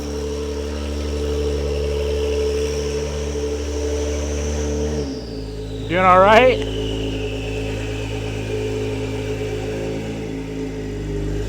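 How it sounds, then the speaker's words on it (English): A Honda NSX sports car rolls into a garage, its steady mid-pitched engine drone and whir stepping down in tone as it settles to idle, close and loud, with a brief spoken greeting over it. "Listen to the NSX pull into the garage."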